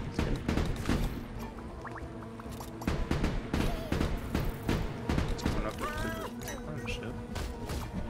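Ship cannons in the video game Ship of Fools fire in quick bursts of sharp thuds mixed with game effects and music, while a player talks over the action.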